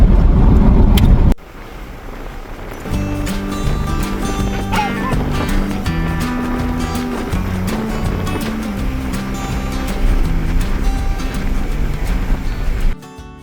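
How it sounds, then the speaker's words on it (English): A pickup truck drives along a road in Nova Scotia, a steady engine and road rumble running continuously after an abrupt start, with some wind noise and no talking. "we packed up the truck, loaded all of the pillows and cushions inside so Cooper would be secure in the back, and we headed towards Havre Boucher"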